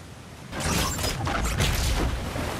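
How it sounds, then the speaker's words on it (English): A sudden surge of heavy rushing water in God of War Ragnarök starts after a brief quiet moment and roars on loudly, with a deep rumbling undertone. "Sounds like you got the water moving along, brother."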